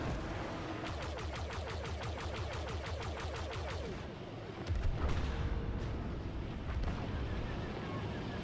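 A Republic cruiser is blown apart in a Star Wars space battle game: rapid rhythmic blaster fire rattles for several seconds, then a deep booming explosion rumbles in, followed by scattered blasts and continued combat.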